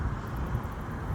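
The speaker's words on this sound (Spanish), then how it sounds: "disculpen el ruido de fondo porque estoy en un cruce de vía" Traffic at a road crossing, a steady low rumble of passing vehicles with wind buffeting the microphone, faint and continuous over a short moment.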